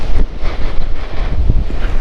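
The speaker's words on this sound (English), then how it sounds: "that was some ridiculous wind" Very strong gusting wind from Storm Eowyn roars across a motorbike rider's helmet microphone over Shap, a loud continuous buffeting rumble with surging gusts and no talk.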